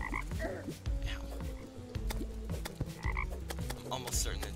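Toads in the Terraria Calamity game croak repeatedly in quick, overlapping bursts against busy game sound effects, loud and close.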